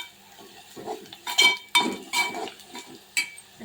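Red chilli powder and turmeric masala being sautéed in a pan for Konkan-style crab curry with jawala: close spoon scrapes and metallic clinks against the pan over a faint sizzle, in short irregular bursts.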